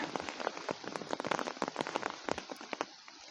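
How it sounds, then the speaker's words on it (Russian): Steady rain patters on a nearby umbrella by a riverbank, with dense, irregular drops tapping close by and no voices. "Идет дождь такой, друзья"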